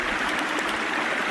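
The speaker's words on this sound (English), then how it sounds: "we're back at our favorite babbling brook" Babbling brook at a wilderness campsite during a three-day survival challenge, a steady close rush of flowing water over rocks, continuous and fairly loud with no voices.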